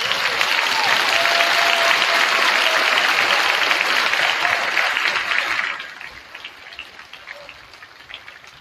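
A large audience in a school auditorium at a high school senior intent night gives loud, sustained applause. The clapping holds full and even for several seconds, then drops off suddenly to a quieter, scattered patter.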